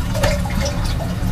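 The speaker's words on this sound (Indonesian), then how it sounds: "Flush kat sini." A toilet on a Japanese bullet train flushes with a loud, close, vacuum-like rush of water that lasts throughout, with no talking.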